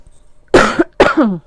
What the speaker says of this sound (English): to cough on you like that